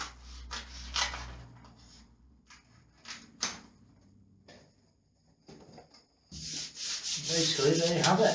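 Lining paper being smoothed onto a ceiling during insulating lining installation, heard as soft brushing and rubbing strokes in short bursts, then a longer, louder continuous sweeping rub toward the end, with no talking.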